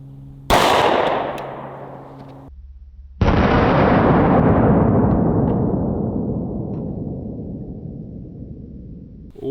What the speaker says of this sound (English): we're shooting this one out of the Smith & Wesson M&P Shield